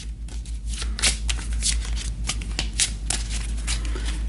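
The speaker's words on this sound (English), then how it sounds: "So I've got the referee deck right here. We'll give this a shuffle." A deck of referee cards being shuffled by hand, with a run of crisp riffling bursts up close and no talking.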